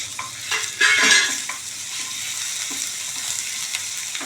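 Garlic and crushed ginger frying in about two tablespoons of oil in a pan for chicken perattu, a close, steady sizzle with a few spoon stirs and scrapes early on, no talking.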